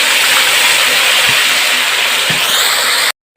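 Ground onion paste hits hot oil for a beef kofta curry, producing a loud, close, continuous sizzling hiss with a few faint stirring knocks, cutting off abruptly near the end.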